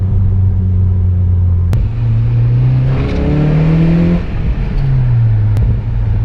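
A 9th-generation Honda Civic Si with a Fullrace catback exhaust rumbles loudly at idle, then is revved several times, the engine note rising and falling before settling back to a deep burble.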